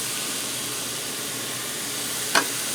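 Salisbury steaks with mushrooms sizzling in a pan, a steady hiss of frying fat that fills the whole stretch, with one brief sharper crackle near the end.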